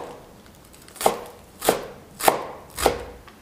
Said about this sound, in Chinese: 我们给它切的碎一些。